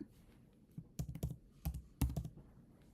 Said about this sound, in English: let's go ahead and enter the correct password of Santa